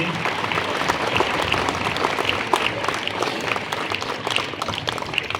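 A large crowd gives loud, sustained applause to welcome a guest at a public gathering in Lohardaga, a thick continuous roar of clapping close by with no break.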